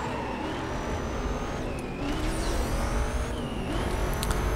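A racing car's engine roars steadily at high revs in a drag race in Need for Speed: Most Wanted (2005), with brief gear-shift dips and rising pitch, loud and alone without talk.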